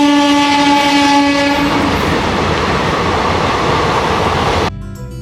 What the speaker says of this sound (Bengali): কারণ ওই ট্রেনটা যাচ্ছে